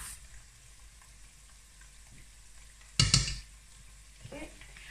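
Red chilli powder hits hot oil in a frying pan for curry, giving one sharp, loud sizzling hiss that dies down quickly into a quiet kitchen background.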